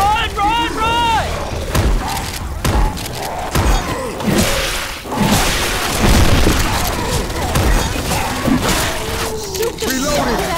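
Heavy gunfire, booming explosions and thuds in the zombie shooter Left 4 Dead 2, continuous and loud across the scene, with players shouting and talking throughout.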